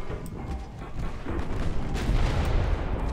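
Naval weapons fire in Ultimate Admiral: Dreadnoughts, including 17-inch torpedoes, as a continuous rumble of low booms and muffled blasts layered over one another, heavy and distant-sounding with no clear pauses.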